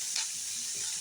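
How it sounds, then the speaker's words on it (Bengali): Onion, green chili and garlic fry in hot oil for a prawn bata dish, giving a brief close hissing sizzle with a light stirring scrape and no voices. "এই যে এবার পেঁয়াজ, পেঁয়াজ ভাজছি, কাঁচা লঙ্কা রসুন একের পর এক সব দিয়ে দিচ্ছি"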